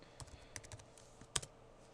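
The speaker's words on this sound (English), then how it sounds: "So here we go, asking me to type my password in." Quiet keystrokes on a computer keyboard as a password is typed during a Linux Mint package install, several soft irregular clicks with one sharper key press, close and alone.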